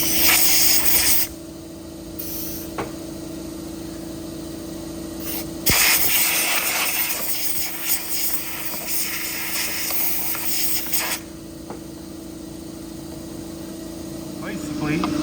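An air compressor in a small-engine repair workshop runs with a steady, droning motor hum that holds for about fifteen seconds. A brief bump breaks the hum partway through, and a few faint clatters sit over it.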